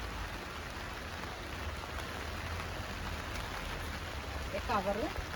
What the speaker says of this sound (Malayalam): എന്തായാലും മഴ പെയ്യട്ടെ.